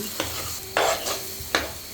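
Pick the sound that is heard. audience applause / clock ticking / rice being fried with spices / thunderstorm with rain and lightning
rice being fried with spices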